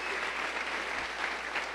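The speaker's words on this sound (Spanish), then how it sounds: "Denle un aplauso, hermano." A congregation at a church service claps together in steady, dense applause. The sound is moderately loud and continuous throughout, with no clear speech over it.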